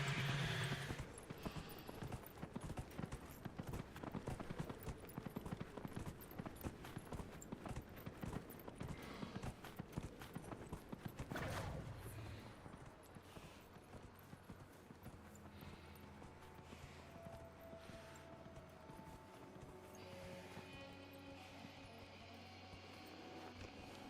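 Horse hooves clip-clop in Dragon Age: Inquisition, a quick steady gallop of thuds over game ambience for about twelve seconds before the footfalls fade and only soft background sound remains.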